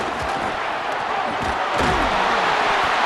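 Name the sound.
stadium crowd cheering at a football game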